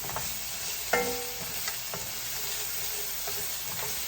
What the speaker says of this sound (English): And then I'm going to saute the onions.